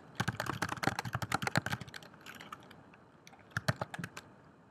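Rapid typing on a computer keyboard, dense bursts of close, crisp key clicks, then a short pause and another quick flurry of keystrokes.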